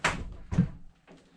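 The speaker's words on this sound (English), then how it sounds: "That door still opens" An old abandoned camper's door swings open with a short latch clack, then a second knock a half-second later and a softer bump, close and sharp in a quiet interior.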